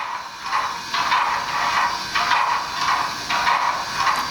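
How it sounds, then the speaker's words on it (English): An HO-scale Rapido Royal Hudson model steam locomotive's air pump sound: a steady, pulsing pump repeats in even beats, each stroke a breathy hiss with a faint mechanical knock, up close. "and then the air pump kicks in."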